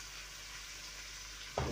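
Seasoning for Jamaican steamed spinach fries in a pot with a soft, steady sizzle, then a louder burst of clatter or sizzle at the very end.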